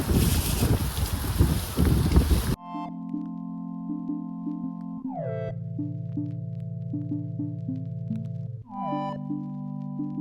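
Rough, gusty wind buffets the microphone outdoors for a couple of seconds, then steady electronic-sounding tones take over.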